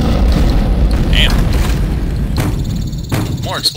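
Explosions in the game Shadow Warrior come as deep booms and thuds, loud and close, with sharper crackling bursts among them, while someone talks over them.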